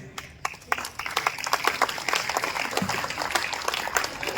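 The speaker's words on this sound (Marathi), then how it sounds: "फक्त त्यासाठी टाळ्या वाजव" Audience clapping for a student being honoured at a taluka felicitation event for meritorious students, dense and steady, nearby claps merging into sustained applause.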